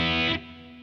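Electric guitar played through a Behringer V-Amp modelling unit with a reverb effect, sounding a loud sustained distorted chord that drops in level and rings on, alone with no talking.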